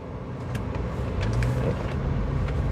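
Traffic on a busy city avenue in Campina Grande, many cars and heavier vehicles rumbling past close by in a continuous swelling drone, with no voices over it.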